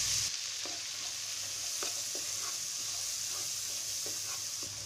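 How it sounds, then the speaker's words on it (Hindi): Chopped onion and cumin seeds fry in a pan for pav bhaji, making a steady, soft sizzle with light scraping stirs and occasional clicks, close by and without talk. "जीरा डालेंगे, कटा हुआ प्याज डालेंगे"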